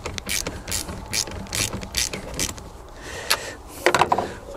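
A ratchet clicks in short rapid bursts while tightening the 12V battery terminal nut on a Renault Kangoo Electric van, close and crisp, with a few louder clicks toward the end.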